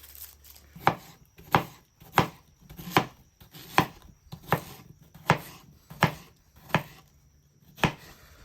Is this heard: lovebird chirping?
no